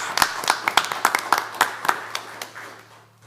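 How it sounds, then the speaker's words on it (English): Scattered, modest applause from a school board meeting audience honoring AP students: a dozen or so distinct hand claps, fairly close, thinning out and fading to quiet by the end. "How about a round of applause for all of our AP students?"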